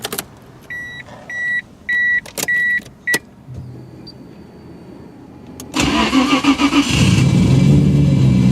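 A 1997 Nissan Skyline GT-R V-Spec R33 sits idle: a run of electronic chimes and clicks, then the starter cranks and the engine catches into a loud, steady rumbling idle close by, with no one speaking.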